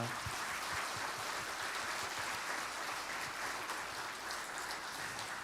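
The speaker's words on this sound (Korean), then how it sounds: "우리 다 같이 감사하는 어떤 그런 답례로 함께 박수로 그렇게 응답하겠습니다" Church congregation at a Friday prayer meeting applauds together, a dense continuous patter of many hands heard at a moderate, somewhat distant level with no talking.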